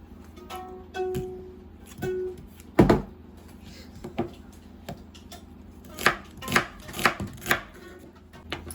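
A knife chops an onion on a cutting board: irregular sharp knocks, one especially hard strike, then a quicker cluster of cuts near the end, close and without speech.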